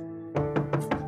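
Three quick knocks on a door, evenly spaced and close, rising over a steady tonal background in a household setting.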